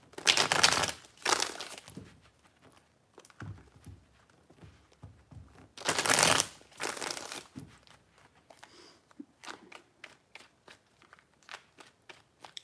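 Tarot cards shuffled by hand in several bursts, with two long loud riffling flurries and shorter crisp snaps and taps in between, close and clear with no talking.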